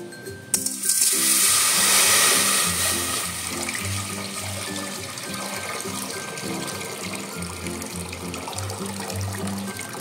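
Water runs steadily from a tap into a cooking pot, a continuous splashing rush that starts abruptly and continues with faint background music.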